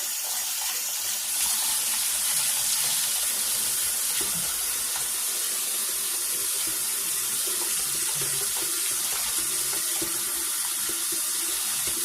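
Steady, close hiss of tap water runs nonstop, rinsing an air conditioning orifice tube from a 2003–2011 Lincoln Town Car in a sink.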